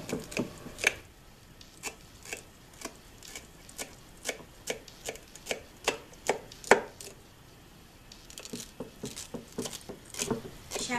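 A knife cuts through a tray of sweet vermicelli barfi into diamond shapes, giving a steady run of soft, close chopping taps at an even rhythm, with a brief pause before the taps resume.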